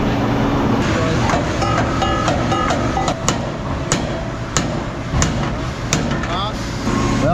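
Metal flare on a saw being hammered straight, sharp irregular metallic strikes ringing out over a loud, constant machinery rumble.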